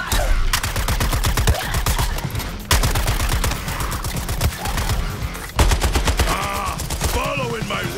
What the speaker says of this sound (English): Providing support fire!